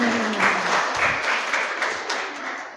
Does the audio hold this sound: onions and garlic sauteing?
no